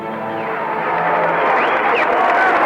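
A crowd gathered on the hangar deck of the USS New Orleans makes a steady wash of cheering and clapping, loud and reverberant in the large enclosed space, with a voice talking over it.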